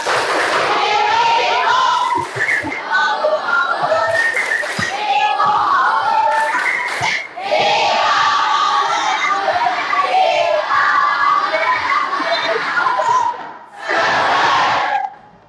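A junior high class in Indonesia performs the tepuk semangat clapping chant, loud rhythmic group claps mixed with children shouting in unison, in bursts with short pauses between.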